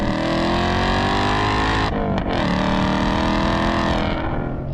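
A 2025 RTR Mustang Spec 3 engine roars loudly and continuously, its pitch dipping briefly mid-way before rising again as the revs climb, with no talking.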